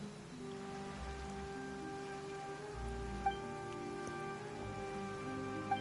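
Rain falls steadily in the video game Genshin Impact, a constant hiss of drops spread across the whole clip, with sustained musical tones from the game underneath and no voices.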